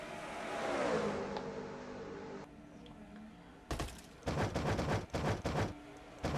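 Race trucks in a Hunt Brothers Pizza Truck Series racing video game at California, an engine drone sweeping down as one passes, then a rattling, stuttering burst of roaring engines down the front stretch.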